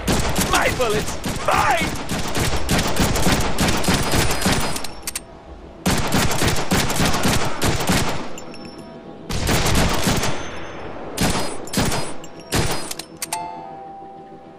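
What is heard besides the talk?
gunfire in Deadpool video game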